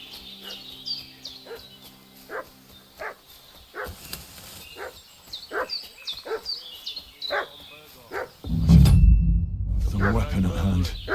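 Dog barking in the video game Kingdom Come: Deliverance II, a run of repeated barks and yips at moderate distance amid birdsong, followed by a loud low rumble near the end.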